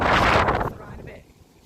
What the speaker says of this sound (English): It's gone a bit windy now.